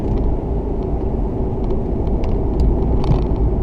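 A 1994 Ford Mustang GT rolls to a stop, a loud, steady low engine rumble heard from close by with no talk over it.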